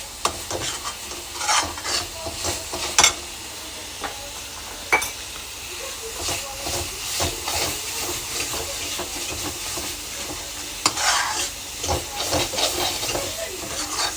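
Vegetables frying in a pan over a slow flame and stirred now and then, a steady close sizzle and hiss broken by scrapes and knocks of the spoon, with no talk.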